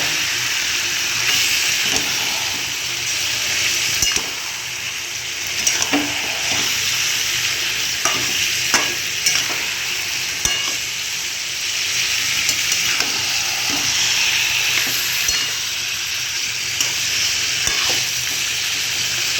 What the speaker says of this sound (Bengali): তো দেখো এখানে আমার পেঁয়াজটা ভাজা হয়ে গেছে, আমি এখন মাংসটা এর মধ্যে দিয়ে দেবো।